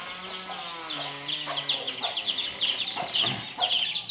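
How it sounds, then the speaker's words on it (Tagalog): Chickens cluck and chirp in a busy backyard farm flock nearby, overlapping calls rising and falling continuously with a few louder squawks. "So, punta tayo sa ating manokan."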